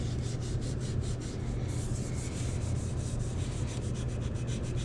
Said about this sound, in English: Get some of this sticker residue off.